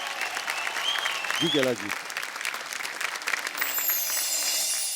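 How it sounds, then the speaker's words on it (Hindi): Audience applause for Kailash Kher at a stage event, dense crowd clapping that runs throughout at moderate volume, with a brief spoken voice early on over it. "भाई जोरदार तालियां हो जाएं हमारे महागुरु कैलाश खेर जी के लिए।"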